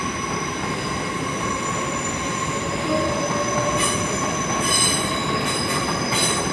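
A Class 802 train, unit 802-002, pulls out of London Paddington on a service to Penzance with a steady rumble and high-pitched wheel squeal, plus bursts of hissing and screeching near the end.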